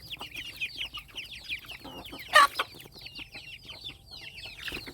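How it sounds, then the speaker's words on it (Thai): Chickens cluck steadily at a rural home where ducks are also kept, with a brief louder squawk in the middle, close against a low background hum. "เป็ดไก่ทุกคน"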